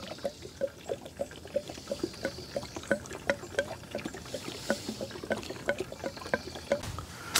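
Gasoline glugs and trickles in quick rhythmic pulses as it is poured from a can into the tank of a Firman W01682 portable inverter generator, close and moderately soft, with no talk.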